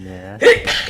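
A single short, sharp sneeze bursts out right after a brief spoken word.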